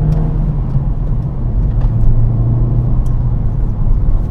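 Honda Civic Type-R FK8 engine pulling in second gear at low revs, a loud steady interior drone and rumble with a gentle rise in pitch, no talk.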